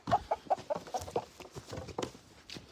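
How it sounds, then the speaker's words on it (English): Several meat chickens cluck in quick, busy bursts, a rapid run of short calls up close over a faint scratchy background. "Chickens. Guys, we have so many chickens."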